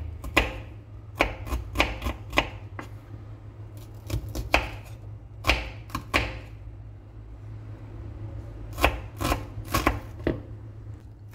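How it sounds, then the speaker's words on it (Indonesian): Shallots coarsely chopped with a knife on a cutting board for a tofu dish, sharp rapid knife taps in quick bursts separated by short pauses, close and clear over a steady low hum. "Sekarang bawang merahnya saya mau cincang kasar, dilanjutkan dengan bawang putihnya."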